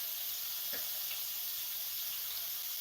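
Coated pork fillets fry in a pan for Asian fried pork, giving a steady, fairly faint high sizzle and hiss with one brief crackle, no voices.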